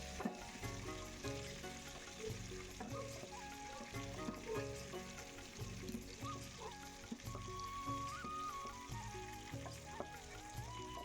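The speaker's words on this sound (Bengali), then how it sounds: "এইভাবেই বাকি মাছগুলোকেও আমি ভেজে নিচ্ছি।" Prawns fry in hot oil for a Bengali prawn malai curry, a steady, even sizzle running throughout beneath louder background music, with no talking.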